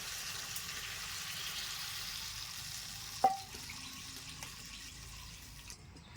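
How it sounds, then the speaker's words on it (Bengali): Water poured into a pan of fried pork gives a steady rushing hiss and bubbling at a moderate level, with one brief clank of a utensil midway. "এবার আমি দিয়ে দিব পরিমাণ মতো জল"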